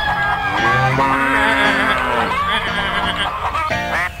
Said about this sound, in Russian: коровки му-му-мукали на нашей ферме